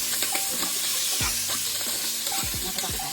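Sliced ginger and pork sizzling and frying in a home kitchen pan, with steady hiss broken by several sharp scraping stirs and clinks of a utensil against the pan, close and fairly loud.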